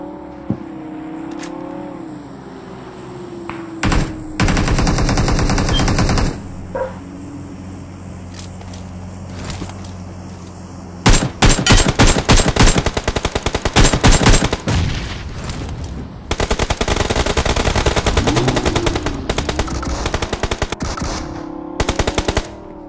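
Rapid bursts of automatic gunfire from a mobile battle-royale shootout crackle in long, loud volleys, broken by short pauses and a faint engine whir, with no talking.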